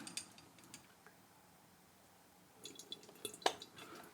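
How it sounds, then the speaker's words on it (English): A glass tea vessel is rinsed during a tea tasting, giving faint trickles and drips followed by a few soft clinks of glass, all quiet and close with no talking. "Tidy up my vessel a little bit. Give it a quick rinse."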